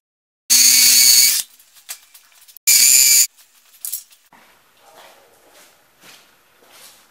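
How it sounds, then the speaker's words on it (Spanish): A power drill bores holes into a wall to mount floating shelf brackets: two loud, close whirring bursts, one about a second long and a shorter one, followed by faint handling and tapping sounds. "Recuerden que por cada soporte hay que hacer dos agujeros y listo."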